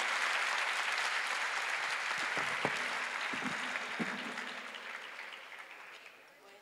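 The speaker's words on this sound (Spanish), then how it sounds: "pedirle al público un aplauso para el grupo que hizo un esfuerzo muy bueno" A conference audience applauds a business panel: a dense, sustained wash of clapping from a large crowd, strong at first and then gradually fading out, with a few brief voices underneath.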